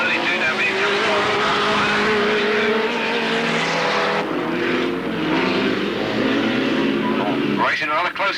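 Race cars lap the Alwalton track, their engines roaring continuously and rising and falling as they pass, with a commentator's voice running over the racket throughout.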